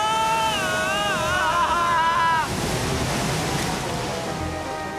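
Cartoon waterfall roaring as a steady, loud broadband rush of water that runs through the whole stretch, with a tonal musical passage riding over it early on before fading out.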